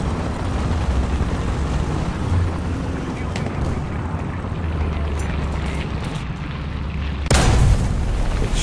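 A BT-7 light tank fires its cannon during a War Thunder ground battle, a single loud, sharp boom near the end, standing out against a steady rumbling engine and battlefield noise.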